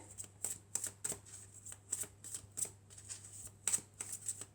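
A deck of tarot cards being shuffled by hand, a run of quick riffling bursts repeating in an uneven rhythm, close and fairly quiet over a low steady hum, with no talking.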